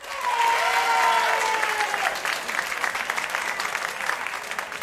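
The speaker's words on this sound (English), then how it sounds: "clap your hands." A late-night talk show studio audience bursts into loud, hearty applause that swells at once, holds steady, then thins into sparser clapping, with a brief tonal sound early on.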